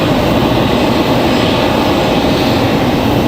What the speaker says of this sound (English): About to have a CRJ start up here below